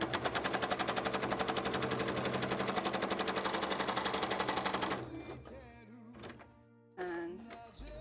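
A home sewing machine stitching fabric for a cosplay contest costume runs in a fast, steady rhythmic whir for about five seconds, then stops, leaving softer handling clunks and a brief renewed burst near the end.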